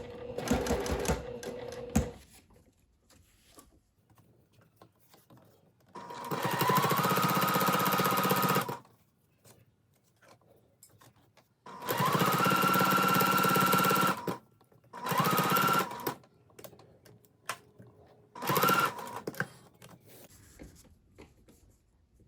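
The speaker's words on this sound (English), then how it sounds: "I've got the right side of my 1/8 inch presser foot lined up with the edge of the fabric, and I'm sewing from the top" A sewing machine top stitches along the edge of a fabric strap with an 1/8 inch presser foot, running in four separate bursts of steady whirring with quiet pauses between them, close by and without talk.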